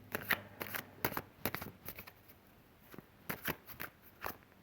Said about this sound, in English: It was hard to shuffle. Cards weren't like getting in there